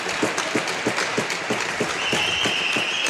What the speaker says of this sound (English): Gets a good cheer from both teams.